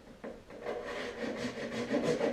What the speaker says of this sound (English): just using the hacksaw blade that I've used before, and just go nice and easy with